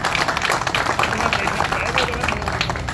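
A crowd applauds a speaker being introduced at a pigeon-keeping gathering in Faisalabad. The clapping is dense and steady throughout, with talk and crowd noise mixed in.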